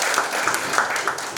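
A few people in an audience at a formal police handover ceremony clap in slow, separate bursts. The claps are fairly close and bright over a hall's murmur.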